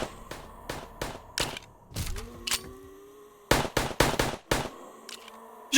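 Pistol gunfire in the VRChat video game: sharp repeated shots in uneven bursts, several spaced single cracks and then a rapid cluster, heard fairly close with a faint background tone and no talking.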